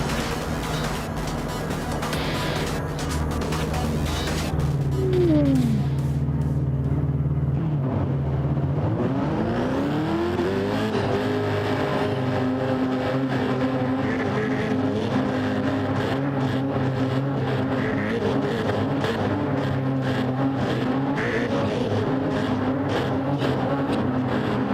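A race car lapping at race pace in Gran Turismo 7 at Yas Marina, its engine droning and revving steadily and loudly, with pitch sweeps through gear changes and a continuous high whine throughout.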